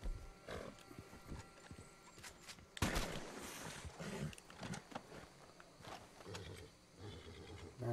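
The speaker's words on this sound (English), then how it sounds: "Darn snake, scare my horse." Horse spooked by a Western Diamondback rattlesnake in Red Dead Online: agitated stamping hooves and snorting with a sharp, loud burst partway through, followed by uneven shuffling and movement that keeps going.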